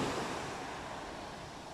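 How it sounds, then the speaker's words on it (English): Gentle swell of sea waves washing off the coast of Kefalonia, a steady broadband surf hiss with soft wind noise across the microphone, continuous and fairly close, no voices. "The sea's just got a nice little swell in it to play in."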